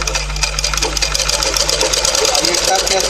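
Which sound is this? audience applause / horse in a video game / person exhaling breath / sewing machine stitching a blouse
sewing machine stitching a blouse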